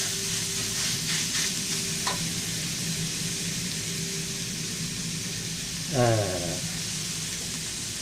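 Preserved radish stir-fried in hot oil in a wok, giving a steady close sizzle throughout with a brief scrape of a utensil stirring near the end.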